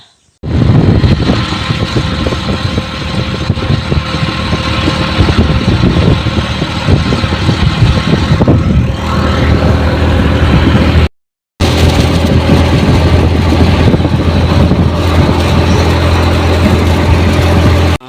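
A motorbike engine roars loud and close throughout a ride, a steady droning rumble mixed with wind rush, cutting out for an instant partway through before resuming.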